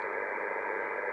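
Loud, steady shortwave radio static hisses from an IC-7300 transceiver with its noise blanker switched off, a dense broadband roar of interference with no signal or voice.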